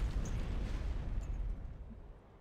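A tank destroyed by friendly armor fire in the Cold War military game Operation Flashpoint. A heavy, rumbling explosion starts loud and then fades away over a couple of seconds, with no talk.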